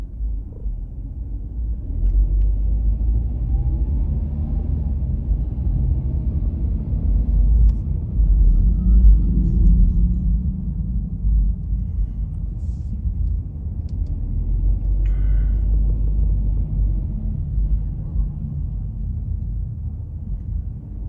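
Car coasting along a road on a Good Friday drive to El Santuario de Chimayo, New Mexico: a steady, close low rumble of engine and tyres that holds throughout, with no talking.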